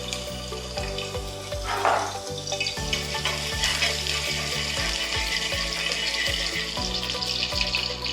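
Garlic frying in hot oil sizzles steadily beneath a run of low clunks and knocks from the pan, with a brief louder splash of hiss partway through.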